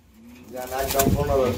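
Pigeons, male and female, kept for sale, give a close, soft rising coo that swells to a throaty, rolling call.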